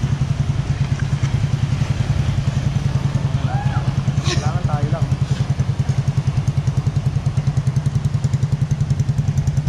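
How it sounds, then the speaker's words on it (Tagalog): Motorcycle ridden through floodwater, its engine a close, steady throbbing drone throughout, with people talking over it. "Motor sinakyan namin, hindi jet ski ah."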